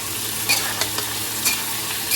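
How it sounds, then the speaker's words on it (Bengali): Vegetable stems frying in oil for a milky shukto in a hotel kitchen, a soft steady sizzle with a few sharp scraping stirs of a spatula, no talk. "ডাটা ভাজা হচ্ছে।"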